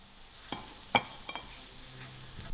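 Masalas tipped into fried garlic in a pan give a faint, low sizzle broken by a few sharp clinks and taps of a spoon against the pan, quiet and close.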